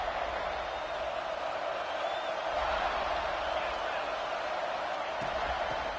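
A dense, steady roar from a football stadium crowd at a national championship rematch game fills the whole stretch without letup, a broad wash of massed voices that stays loud and even.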